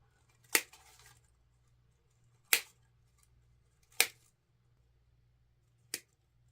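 Scissors trim wax flower stems on an Easter wreath bush, making four crisp, separate snips spaced one to two seconds apart over a faint low hum.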